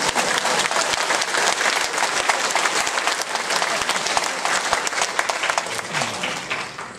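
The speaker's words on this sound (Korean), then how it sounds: "박수 한번 안 치십니까?" Enthusiastic applause from a crowd, dense and sustained clapping that carries on for several seconds without talk.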